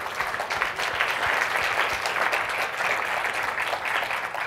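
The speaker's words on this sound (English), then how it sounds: "So big round of applause for them" An audience at a tech talk applauding the AV crew, with dense steady clapping from many hands held at even loudness throughout, close and with no speech over it.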